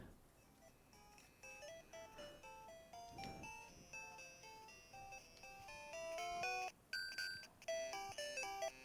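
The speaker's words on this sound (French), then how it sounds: "C'est ma sonnerie de réveil." A bright, chiptune-style Super Mario Land melody from a Game Boy, used as an alarm ringtone, plays alone, its beeping notes growing louder and busier toward the end.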